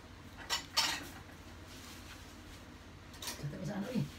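Leche flan ingredients with condensed milk are mixed in a bowl, with utensil clinks and scraping near the start and more toward the end, close by. A voice is faintly heard underneath.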